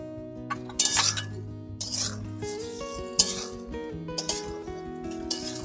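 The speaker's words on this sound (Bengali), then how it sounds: "এবার আমি এর মধ্যে এই বাঁধাকপি পকোড়াগুলো দিয়ে দিব।" Cabbage pakoras drop into a pan with light clinks and scraping, a few sharp knocks and rustles scattered over a steady low background, close by and with no voices.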